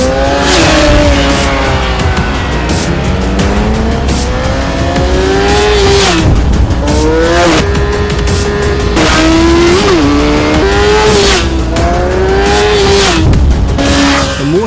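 A Kawasaki Ninja ZX-10R motorcycle engine revs hard and loud while riding, rising and falling in pitch through repeated gear changes and throttle sweeps, with no talk.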